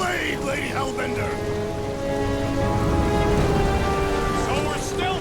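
Heavy storm rain pours steadily across a surface in a Guardians of the Galaxy game scene, a dense continuous hiss with occasional voices and soft background tones under it.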